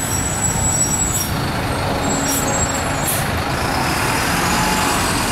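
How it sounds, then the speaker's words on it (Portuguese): City bus passing through the Vila Real neighborhood streets, a steady loud roar of engine and road noise with brief hissing bursts of air brakes, no voices. "Os ônibus agora estão circulando aqui novamente na Vila Real"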